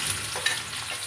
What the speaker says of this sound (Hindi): तो हम प्याज डाल देंगे